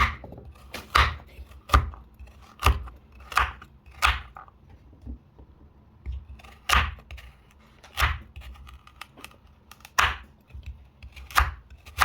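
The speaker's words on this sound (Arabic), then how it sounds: "قطعنا الجزر" A knife chops carrots on a board in sharp, separate thuds, close and distinct, arriving in an irregular rhythm of about a dozen strikes with brief pauses between them.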